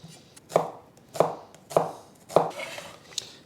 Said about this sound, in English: Now I need to cut some red onion into half moons.